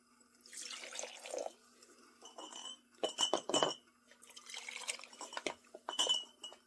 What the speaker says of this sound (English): I pulled the jars out of the oven.